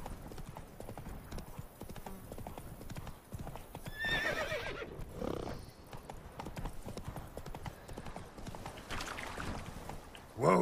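Roach, a horse in The Witcher 3, whinnies and trots with steady clip-clop hoofbeats under game music and ambience, the neigh rising midway and the footfalls continuing throughout.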